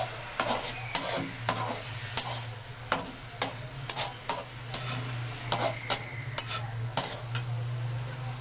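Chicken and cauliflower fry in masala for gobhi gosht while a metal spoon scrapes and clinks against the pan in an uneven rhythm over a steady sizzle.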